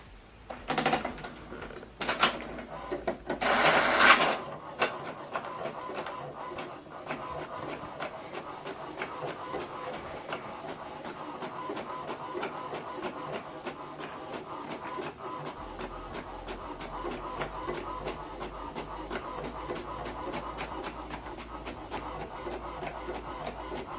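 An HP DeskJet 3700e inkjet printer printing a document, with loud whirring and clunking bursts at the start, then a long run of rhythmic ticking carriage passes and soft mechanical rubbing, close and alone.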